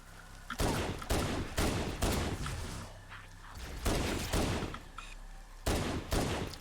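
Rapid video game gunfire, loud bursts of fast shots repeating every second or so with short gaps between volleys, close and clear with no talking.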